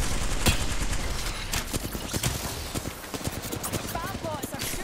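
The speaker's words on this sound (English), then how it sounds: "Bad bots are shooting at me" Gunfire in the video game Apex Legends, with sharp repeated shots scattered through a busy mix of game sounds.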